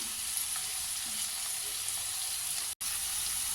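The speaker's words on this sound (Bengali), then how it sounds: "যতক্ষণ না ভাজা হয় ততক্ষণ ভেজে নেব" Loitta (Bombay duck) fish frying in a pan with salt and turmeric gives off a steady, soft, hissing sizzle that runs continuously, broken only by one momentary dropout.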